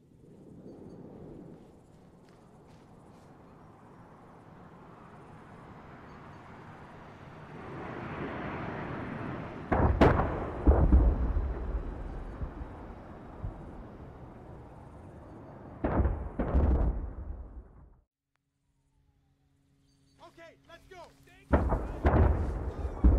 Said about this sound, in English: Alright, got my artillery.